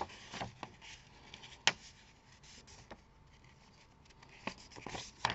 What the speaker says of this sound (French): Donc là, vous pliez votre papier.